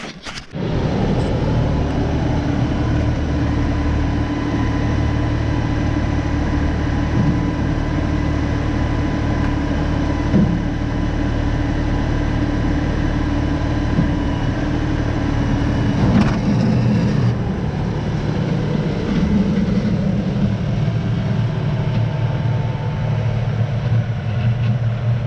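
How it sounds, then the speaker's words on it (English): An LS tractor engine runs steadily while back blading snow, a loud, continuous low diesel drone with a constant hum and no speech, holding even from start to finish. "Tractor does really work good."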